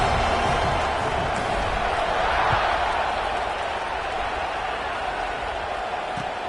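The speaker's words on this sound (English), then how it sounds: "this crowd is buzzing after that last score" A steady roar of stadium crowd noise in College Football 26, a game between Toronto and Wisconsin, a broad, continuous buzz throughout with faint thumps.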